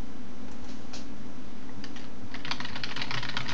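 Typing on a computer keyboard to enter a post subject in a vBulletin 4 forum, sparse keystrokes at first, then a quick, steady run of close clicks over a low constant hum.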